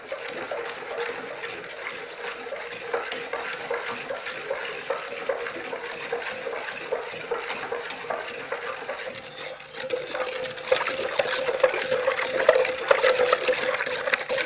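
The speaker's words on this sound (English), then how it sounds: "I am now stirring." Water with sediment at the bottom being stirred rapidly into a vortex, a steady swishing, sloshing churn with faint rhythmic scraping that grows slightly louder toward the end, close and continuous with no talk.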